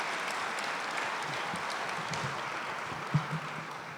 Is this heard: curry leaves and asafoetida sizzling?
no